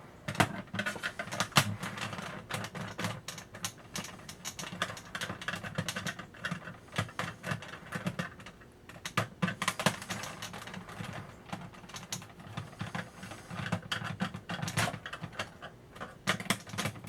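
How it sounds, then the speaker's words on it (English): Small hand screwdriver unscrewing the plastic shell of an Adventure Force Thundershot toy blaster, giving a steady run of close, light clicks and ticks, irregular and busy, with no talking. "I apologize for you having to watch me unscrew the blasters"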